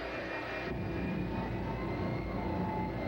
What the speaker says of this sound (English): the first driver ever to build a jet-powered truck